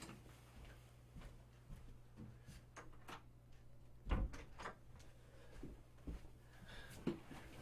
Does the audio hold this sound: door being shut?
yes